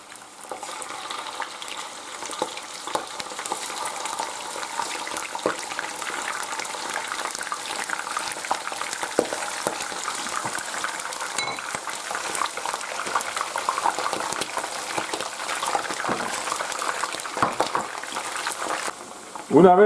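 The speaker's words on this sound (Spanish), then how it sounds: "Ahora lo que vamos a hacer es freír el conejo" Rabbit pieces frying in a pan for conejo al ajillo, a steady close sizzle of hot oil with crackles and occasional stirring clatter, continuing for the whole stretch with a utensil knock at the end.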